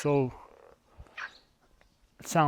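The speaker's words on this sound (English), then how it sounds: "I don't know what is this frog." A small frog croaks outdoors, a few short raspy calls between moments of someone talking nearby, fairly close and clear.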